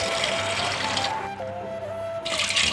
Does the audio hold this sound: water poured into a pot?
yes